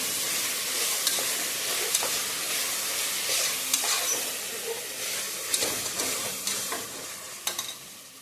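Coriander and mint leaves sautéed in a pan for chicken biryani give off a steady, close sizzling hiss, broken by scattered clicks and scrapes of stirring.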